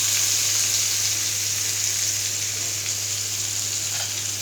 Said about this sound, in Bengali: এবার এই তেলের মাঝে আমি কিছুটা পেঁয়াজ দিয়ে দিব